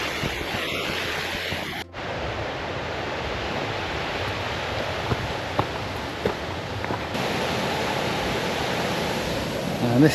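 Waterfall on the Isle of Arran, a steady broadband roar of rushing water heard from near the viewing platform, continuous and fairly loud, with some wind buffeting on the microphone.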